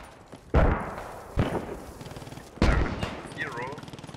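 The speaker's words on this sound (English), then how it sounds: "Zippo, who are you shooting at?" Gunfire in the video game Post Scriptum, with three heavy, loud shots spaced apart, each followed by a booming tail, plus lighter crackling shots and a faint voice in the background.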